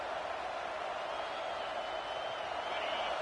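Steady roar of a large stadium crowd at an Alabama college football game, a dense continuous wash of many voices with no breaks or peaks.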